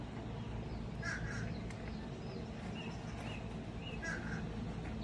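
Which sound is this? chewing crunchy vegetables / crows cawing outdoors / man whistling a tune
crows cawing outdoors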